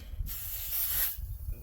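Compressed air from a worn compressor hose hooked to a 3-ton pneumatic jack gives one steady, loud, bright hiss lasting about a second, starting and stopping abruptly, with no talk over it.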